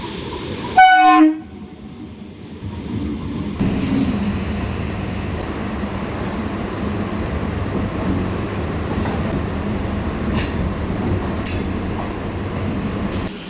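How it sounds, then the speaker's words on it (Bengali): A Naihati local train running from Ranaghat blasts a short, loud horn at night, then rolls in with a steady heavy rumble and clatter of carriages for several seconds, with no one talking. "নৈহাটি লোকাল রানাঘাট থেকে নৈহাটির উদ্দেশ্যে চলাচল করে এই একটি মাত্র ট্রেন"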